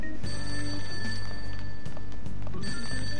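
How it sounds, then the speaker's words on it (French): In the video game Persona 5, a landline telephone rings from downstairs in a house at night, with repeated steady ringing bursts over a low game music bed. "Cette sonnerie ne vient pas de mon téléphone. Elle vient d'en bas."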